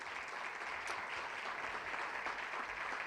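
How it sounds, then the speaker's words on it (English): An audience claps in a continuous, even round of applause at an evening charity event, dense and steady from start to finish with no voices rising above it. "Let's give them a round of applause."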